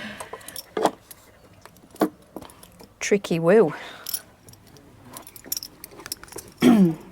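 Keys jangle and clink at the door of the Tristan suite in Skelldale House, Askrigg, Yorkshire Dales, in several close rattling bursts, with people briefly talking in between.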